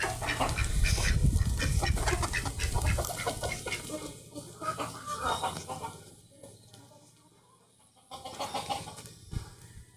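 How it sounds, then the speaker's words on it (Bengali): Ducks and chickens in a backyard coop quack and cluck, loudest at first and then in scattered bursts. A few faint voices can be heard in the background. "দেখো, এটা হলো আমাদের হাঁস মুরগির খোপ"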